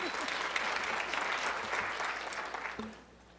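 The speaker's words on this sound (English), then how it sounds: "so please give her a round of applause." A conference audience gives a round of applause for Chair Supervisor Nora Vargas, dense clapping that holds steady for about two and a half seconds before tapering off quickly.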